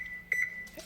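An oven being switched on gives a steady electronic tone with two short, bright beeps in quick succession, fairly faint with no talk.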